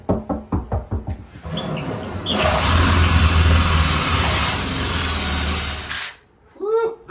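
A power hole saw cuts a 4 1/4 inch hole in a bathroom ceiling for a light fixture, with a steady loud grinding whine lasting about four seconds, preceded by a few short knocks and followed by a brief voice.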